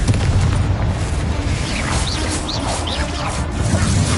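A Confringo blasting spell explodes in a Hogwarts-style magic academy video game on PS5, a loud booming burst inside a dense, continuous wash of combat noise with no break in the din.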